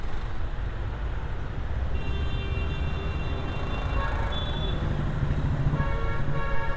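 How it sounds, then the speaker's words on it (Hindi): Car horns honk repeatedly in busy Mumbai traffic, several overlapping toots over a constant rumble of engines nearby. "ये देखिए लोग इतना हॉर्न बजाते हैं यहाँ पे"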